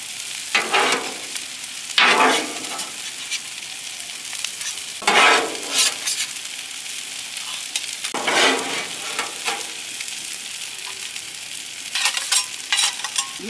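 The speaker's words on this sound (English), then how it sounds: "While we let those noodles cook, we're gonna go ahead and put this meat on the grill." Noodles sizzling on a Blackstone griddle for hibachi, a steady loud frying hiss broken by repeated scraping stirs every couple of seconds, close up with no talking.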